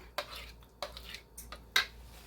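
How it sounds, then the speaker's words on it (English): A spoon stirs a dish made with half and half in a pot, giving four separate scraping clinks spread over two seconds, close and moderately quiet, with no talk. "And then you're just going to stir this."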